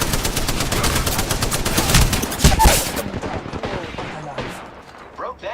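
Rapid bursts of automatic gunfire from another squad in a video game, loud and dense, rattling continuously for about three seconds before cutting off, followed by scattered quieter game sounds.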